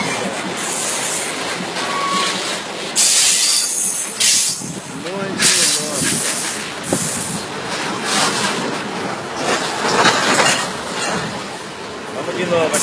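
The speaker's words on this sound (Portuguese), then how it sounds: "Mostrando pra vocês aí o trem carregado" A freight train loaded with soybeans rolls past at close range in Araraquara, its loud hissing, rumbling wagons and clinking couplings running continuously while someone talks over it.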